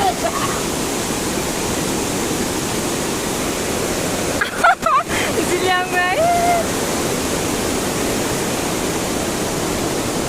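Steady broadband rush of river water flows throughout at a bamboo crossing in Mawryngkhang, Meghalaya, loud and constant, with a few brief spoken words and a short whistle-like tone partway through.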